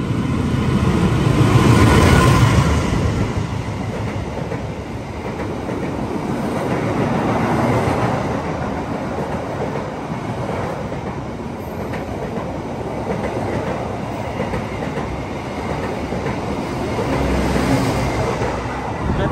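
Argo Lawu executive-class passenger train with a luxury car rolling on rails at night while braking, a steady rumbling wheel-and-carriage roar heard from onboard, swelling slightly at the start and end, with no voices.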